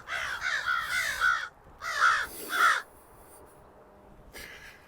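Crows by a lake give three harsh caws, then a pause and two more, followed by quiet and a brief final call, fairly close and clear with no voices.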